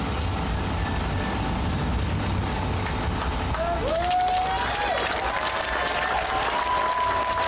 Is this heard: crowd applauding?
yes